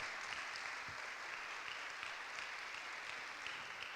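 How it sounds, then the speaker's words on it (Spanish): A church congregation applauds first-time visitors at a Sunday service, a broad even wash of clapping that holds steady for the whole stretch with no talk over it. "Les damos un aplauso a todos los que están por primera vez en este lugar."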